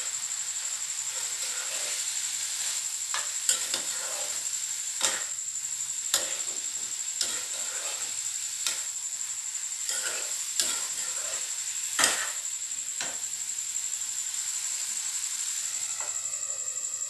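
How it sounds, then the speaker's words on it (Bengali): Vegetables and soybean chunks frying in a pan with lentils: a steady sizzle and hiss runs throughout, broken by a dozen or so sharp scraping, clinking strokes as a spoon stirs the pan. "লৰাই পেলাই গোটেই চব্জিখিনি মিক্স হৈ গ'ল। এতিয়া আমি ইয়াতে যিখিনি ভাজি থৈছিলোঁ সেইখিনি দি দিলোঁ চয়াবিনখিনি।"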